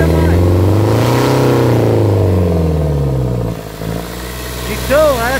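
An Iveco 35S14 diesel engine with an EGR fault revs up under acceleration, a loud close droning roar that rises and falls, dips briefly, then climbs again, while a person talks over it.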